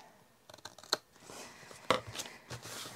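Scissors cut a piece of paper for a lapbook: a few quiet, crisp snips, one sharp cut near the start and a louder crunch near two seconds, in an otherwise hushed room.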